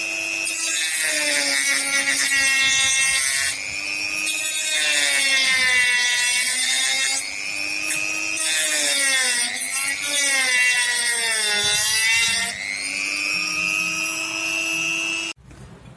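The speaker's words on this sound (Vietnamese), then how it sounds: "Mình đã cưa rơi ra được một tấm rồi đây các bạn này." A saw cuts through a battery pack, giving a loud, continuous rasping whine with wavering pitch as the blade works, briefly pausing and resuming, close up with no talk.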